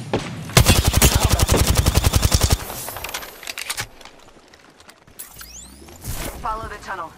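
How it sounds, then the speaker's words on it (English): Apex Legends gameplay with a rapid burst of automatic gunfire up front, followed by scattered shots, game effects and a character's voice lines, moderately loud. "The enemies are shooting at me."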